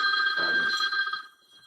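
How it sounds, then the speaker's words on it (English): A mobile phone rings during a conversation about safeguards, giving a bright electronic ring with steady tones that holds for about a second and then cuts off, leaving only quiet room noise. "My apologies, I forgot to turn my phone off."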